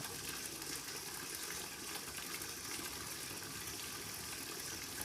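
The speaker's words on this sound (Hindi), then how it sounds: "अब जैसा ये जल बह रहा है" A forest stream flows on without pause, a soft, even rush of water with no breaks, fairly faint and heard alone.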